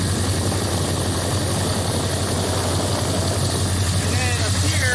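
A 2011 Ford Powerstroke 6.7 diesel engine with a turbo pedestal oil leak idles close by, a loud steady drone and rumble throughout, with a person talking over it.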